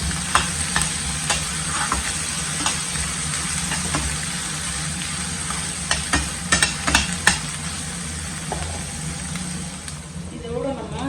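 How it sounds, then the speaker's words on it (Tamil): Steady sizzle of onions and green chilies frying in oil, with occasional stirring clinks and scrapes over a low background hum. "பச்சை மிளகாய் வெங்காயம் இதை சேர்த்துட்டு நல்லா வதக்கிக்கிறேன்"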